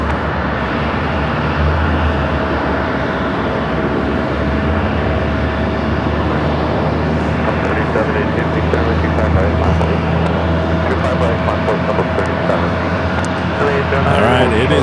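An American Airlines jet rolls for takeoff from runway 25 right at Phoenix Sky Harbor, its engines making a loud, steady roar throughout while a voice talks over it.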